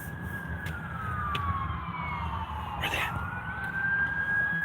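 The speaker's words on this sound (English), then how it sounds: "Yeah, it's an ambulance." An ambulance siren wails in the distance, its pitch sweeping slowly down and back up as it passes, over steady low traffic rumble.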